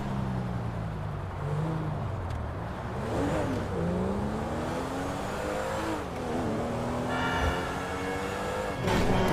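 A Lamborghini engine in GTA 5 revs loudly and steadily, its pitch climbing and falling through gear changes over a continuous drone, with a sharper burst of revving near the end.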